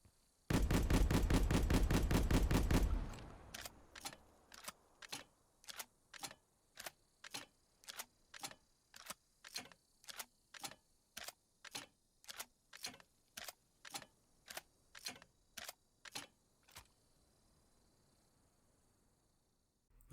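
Streetsweeper shotgun in Cold War Zombies: a burst of rapid gunfire for a few seconds, then a long, slow, evenly spaced series of sharp reload clicks, each shell loaded one at a time before it falls quiet.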